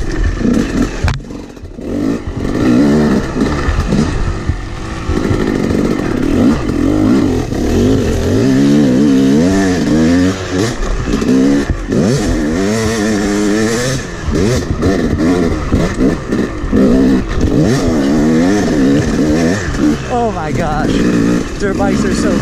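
A Yamaha YZ250 dirt bike engine revs up and down continuously, loud and close, its rising and falling pitch rough and uneven as the bike struggles with stalling.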